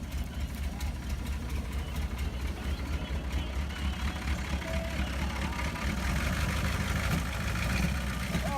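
1986 GMC dually diesel truck idling after a hard start following two years parked, a steady low diesel rumble and clatter heard close up throughout, with voices talking over it now and then.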